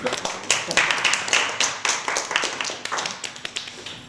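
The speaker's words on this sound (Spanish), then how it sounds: "Un aplauso." Sparse, rhythmic clapping from a small audience after a talk, individual claps distinct and close, at an uneven tempo that gradually thins out.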